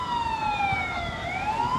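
A fire engine siren at an overturned, burning fuel tanker truck wails with one steady sweeping tone that dips and rises again, fairly close and alone over low background rumble.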